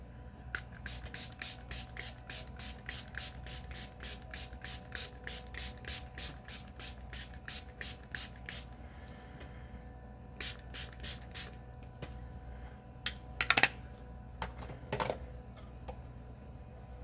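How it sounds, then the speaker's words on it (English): Setting spray misted onto a face at close range: a long run of quick, evenly spaced pump bursts, a pause, then a shorter series of sprays and a few isolated clicks over a quiet room hum. "Then we're going to spray the face."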